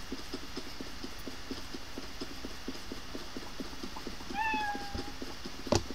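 A cat in the Roblox game Evade gives a single short meow, clear over a steady rhythmic clopping background, followed by a sharp click.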